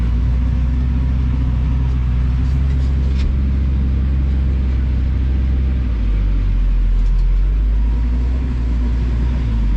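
A harvest vehicle drives through a wet, muddy crop field, its engine giving a constant heavy low rumble and drone, loud and close, with no pause throughout.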